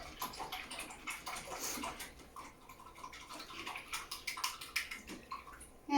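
A paintbrush is swished and rinsed in a water cup, soft irregular sloshing and light tapping, faint and close, with no voices.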